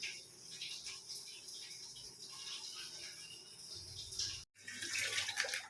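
Water pours steadily into a tub being filled for hand-washing laundry, a soft continuous hiss and splash at low level, briefly cut off near the end before resuming.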